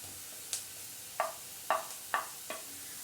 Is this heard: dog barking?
no